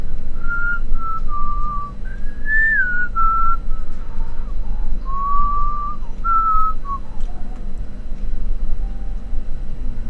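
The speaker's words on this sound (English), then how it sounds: "Oh, this soundtrack sounds nice." A wavering whistle-like melody glides between held notes over a low steady drone, a calm tune from the Genshin Impact soundtrack playing loudly with no voices.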